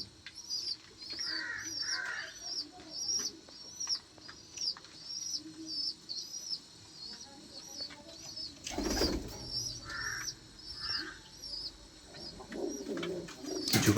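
Pigeons cooing repeatedly in a loft, a steady series of soft, low, throaty coos mixed with bird chirps, brief wing flaps and rustling nearby.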